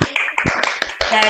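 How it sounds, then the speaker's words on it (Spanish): Scattered clapping from an online audience joining over open microphones, a brief flurry of uneven claps and taps heard close up, with voices mixed in underneath. "vamos a aplaudir todos"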